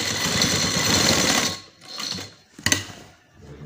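A sewing machine stitching a design on a trouser cuff runs in a fast, steady close whir for about a second and a half, then stops, followed by a few brief bursts and mechanical clicks.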